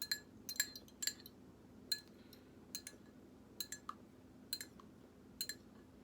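Raw eggs and salt stirred in a glass, a utensil clinking against the rim in a quick irregular series of bright taps, close and fairly quiet over a low steady hum.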